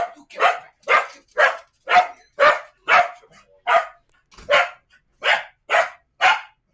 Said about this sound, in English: That's a corgi in the background named Gleason.